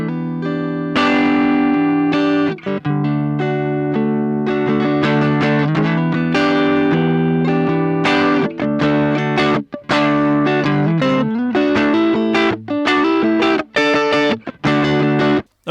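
Electric guitar played dry through an Orange Terror Stamp amp, loud, dynamic picked chords and riffs with sharp attacks and brief stops, no voices.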